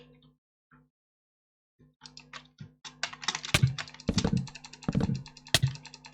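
Fast computer mouse clicking while playing Minecraft Bedwars, starting sparse and quiet, then building into a dense, rapid run of sharp, close clicks.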